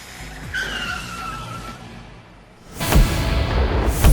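A lorry skids to a stop: a drawn-out tyre squeal rises and fades over the first seconds, then a loud, rough rush of noise bursts in and holds to the end, with no voices.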